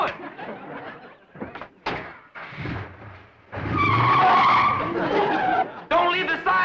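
A 1960s car pulling away with tires skidding and squealing, a loud sustained screech after a few knocks and thumps, close and dominant.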